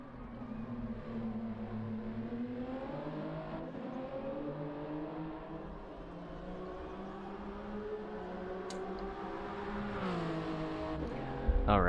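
A race car on a qualifying lap works through the bus stop chicane, its engine note rising and dipping with throttle changes, then climbing hard in pitch near the end; a voice talks faintly underneath.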